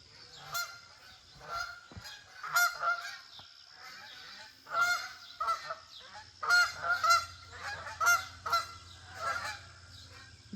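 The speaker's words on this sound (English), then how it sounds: "We've got geese flying over." A flock of geese flies over a lakeside deck, honking repeatedly in bursts that swell and fade at moderate distance across a quiet morning.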